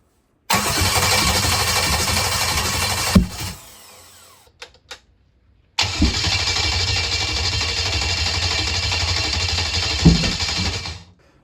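A small block Chevy 283 V8 is cranked over in two long bursts of loud, rhythmic churning, separated by a quiet gap with a few clanks, without firing into a steady run.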